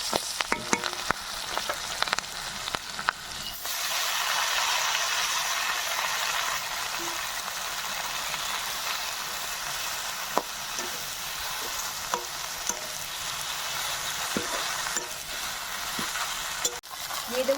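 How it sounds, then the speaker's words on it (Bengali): Pumpkin leaves hitting a pan of hot oil with garlic, green and dry chillies and black cumin: light clatter first, then a sudden loud hissing fry that holds steady with occasional stirring knocks, close and without speech. "রসুন, কাঁচা লঙ্কা, শুকনো লঙ্কা, এবার শাকটা দিয়ে দেবো"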